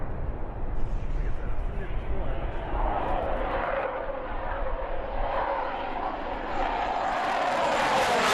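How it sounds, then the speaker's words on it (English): Corsair aircraft fly in a four-ship legacy flight at an air show, a loud rumbling propeller engine roar that swells and holds steady, with a crowd murmuring beneath. "Here, a four-ship legacy flight with a pair of Corsairs."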